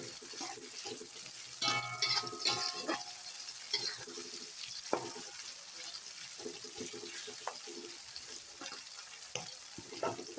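Red and white chilies frying in a pan being stirred, with a soft sizzle, a few near scrapes and clinks of the spatula, and a faint hiss underneath.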